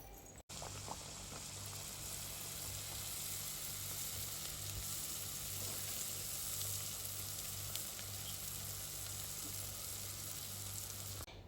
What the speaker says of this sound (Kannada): ಈಗ ಒಂದೊಂದೇ ಕಜ್ಜಾಯನ ಎಣ್ಣೆ ಒಳಗೆ ಹಾಕ್ಕೊಳ್ಳೋಣ.